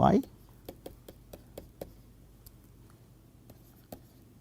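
Chalk or marker tapping and scratching on a board during a fluid mechanics lecture, a quiet run of short ticks in an irregular rhythm after a brief voice at the start.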